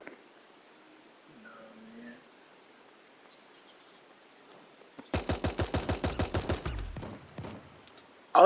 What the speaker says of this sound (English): them shotguns crazy